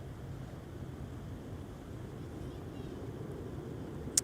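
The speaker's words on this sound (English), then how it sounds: "Listen to the growl of those Trent 7000 engines." Rolls-Royce Trent 7000 jet engines on a Delta Airbus A330 taking off at Minneapolis–St. Paul Airport give a distant, steady low growl that rumbles faintly and continuously.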